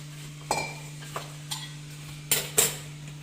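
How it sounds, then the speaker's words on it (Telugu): Cooled tempering spooned into instant lemon pickle and stirred: a few sharp metal spoon clinks and scrapes against a bowl, spaced irregularly over a steady low hum, close and fairly quiet, no talking. "వేసేస్తున్నాం తాలింపులు."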